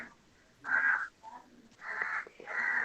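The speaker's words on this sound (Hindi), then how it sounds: "कौवा बोल रहा है।" A crow caws outdoors, three harsh drawn-out calls of about half a second each, moderately close and standing out over quiet background.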